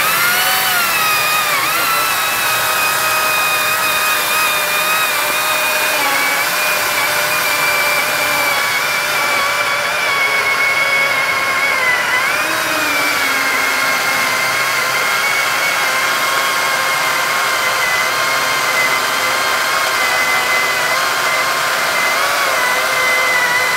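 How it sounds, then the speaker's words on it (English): A gas chainsaw drones steadily at high revs throughout, loud and close, its pitch wavering slightly as it bites through wood; a Makita chainsaw making a big cut through a large log. "we're going to show you the power of this chainsaw and what it's capable of with a really big cut today"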